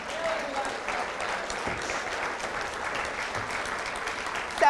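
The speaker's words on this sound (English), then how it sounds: "I'm going to clap." Audience applause at the Pet Professional Guild Summit in Tampa, a steady dense wash of clapping from a crowd that holds evenly for several seconds, with a few voices mixed in.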